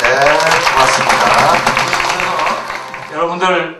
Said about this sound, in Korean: 여러분들 박수 쳐주세요